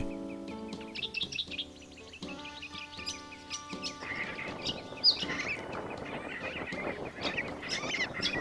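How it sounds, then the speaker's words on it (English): A Major Mitchell's cockatoo, or pink cockatoo, gives repeated harsh, squawking calls and chirps at moderate volume, mixed with steady tonal background sound. "The Major Mitchell cockatoo, Lophochroa leadbeaterei, also known as the pink cockatoo."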